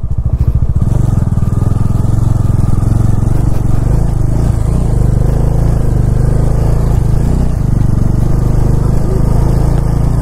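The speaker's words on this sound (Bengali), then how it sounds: "আপহিল স্টার্ট হয়েছে, আর এতে কিন্তু ক্লাচ প্লেটের ওপর বেশ ভালোই চাপ পড়ে।" An off-road ADV motorcycle with high ground clearance makes an uphill start on a steep mountain road, its engine loud and close, chugging and revving steadily under load throughout.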